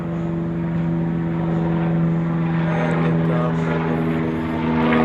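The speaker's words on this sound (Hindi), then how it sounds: "हेलीकॉप्टर आ रहे हैं जी" Helicopters flying overhead in the early morning, a steady throbbing rotor and engine drone with strong low tones, loud and continuous throughout, rising slightly toward the end.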